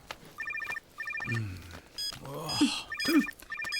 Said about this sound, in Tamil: ஃபோன் அங்க வச்சுட்டு வந்துட்டீங்க. உங்களை மாதிரி கத்திக்கிட்டே இருக்கு.